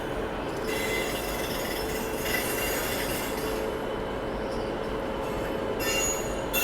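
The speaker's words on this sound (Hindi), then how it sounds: "वहाँ पर महाबोधि एक्सप्रेस का डिपार्चर हो रहा है गया को जाने वाली। WAP-7 लोकोमोटिव के साथ यहाँ पे निकल रही है।" The Mahabodhi Express pulls out behind a WAP-7 electric locomotive, its wheels squealing on the rails amid a steady rolling rumble and faint metallic clinks from nearby.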